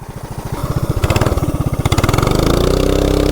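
A ct200U-ex mini bike fitted with a 420 big block engine runs close by, its loud, choppy single-cylinder putter speeding up into a fast, steady buzzing drone as the revs climb.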